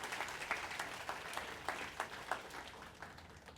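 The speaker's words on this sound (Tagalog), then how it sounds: "isang malakas nga na palakpak sa Panginoon" Faint, distant applause from a church congregation at a year-end celebration service, scattered claps standing out over a soft wash of clapping.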